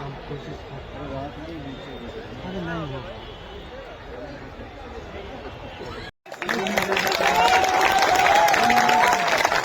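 Loud crowd applause breaks out at a Latiya festival gathering in India, dense steady clapping with cheering that cuts in after a stretch of murmuring audience chatter and talk.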